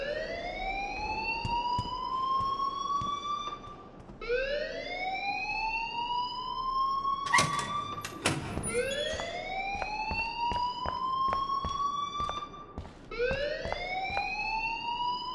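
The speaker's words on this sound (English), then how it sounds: "please turn off that alarm since that's your job" A rising, wailing electronic alarm repeats in long swelling sweeps inside the video game Life is Strange, loud and steady with a brief burst of clatter midway and no talking.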